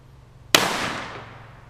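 A single sharp .22 long rifle shot into wood cracks out close and loud after a moment of quiet, its report decaying over about a second.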